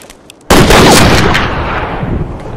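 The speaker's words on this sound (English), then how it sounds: "shooting cornbread out here on the prairie is getting us no closer to the Ned Pepper gang" A gunshot in the western True Grit on the prairie, one sudden loud blast that rings out and slowly fades over the following seconds.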